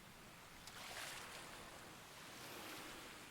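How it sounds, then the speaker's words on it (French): Small waves lap and wash back on a seashore, a faint, soft, continuous surf with gentle swells and light wind noise and no voices. "au son des petites vagues, du ressac des vagues qui viennent et qui repartent"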